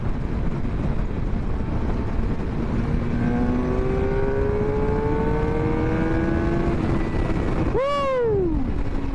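A 2023 Suzuki GSX-R750 sport bike engine accelerating hard, its whine climbing steadily in pitch through the revs before a sudden sharp swoop near the end, loud and continuous under wind roar.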